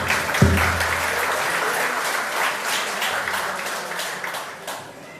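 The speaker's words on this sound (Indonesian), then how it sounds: "Tepuk tangan untuk Pak Insan." Audience at an Indonesian religious lecture applauding Pak Insan, a sustained wash of many hands clapping at moderate volume, beginning with one sharp thump and fading a little toward the end.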